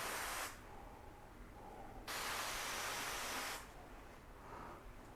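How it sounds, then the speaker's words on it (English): Bursts of spray hiss from a trigger bottle of ceramic detailer onto car panels, two long sprays separated by a quiet pause, close to the microphone. "I'm going to spray these down."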